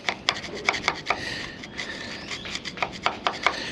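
Corrosion being scrubbed off a large stainless steel mast tube aboard a boat, heard as close, steady rasping strokes in an uneven rhythm with sharp scraping peaks and no talk.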